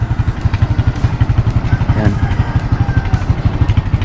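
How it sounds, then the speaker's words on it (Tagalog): A small motorcycle tricycle engine idles nearby while warming up, with a steady, rapid putt-putt rhythm; a voice speaks briefly over it. "pinapainit muna yung makina"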